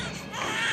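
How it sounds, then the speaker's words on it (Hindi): Baby crying in a short, loud, sustained wail heard up close, in the setting of a Haryanvi drama. "बालक रोने की आवाज आओ है।"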